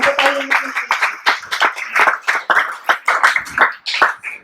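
Rhythmic group clapping at a church gathering, fairly close and loud, with steady repeated beats of many hands over a few seconds and a brief voice at the very start.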